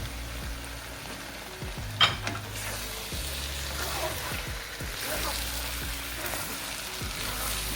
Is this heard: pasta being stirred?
yes